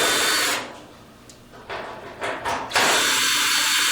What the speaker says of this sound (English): Using a 1/4 inch tool, remove the screws that hold the back panel onto the back of the dryer.